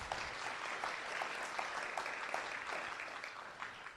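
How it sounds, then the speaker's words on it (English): An audience at the opening of a Long Island event gives steady applause, a faint, distant wash of many hands with distinct claps at a brisk, even pace, tapering slightly at the end. "Please clap for him."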